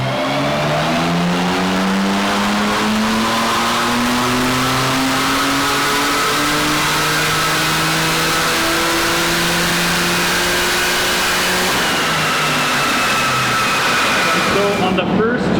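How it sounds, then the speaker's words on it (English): A 2018 BMW M3 Competition runs a dyno pull, its engine rising steadily in pitch for a long, loud sweep through the revs before easing off near the end, heard close and alone. "But Travis is gonna do a couple pulls on this thing and we'll see what it does."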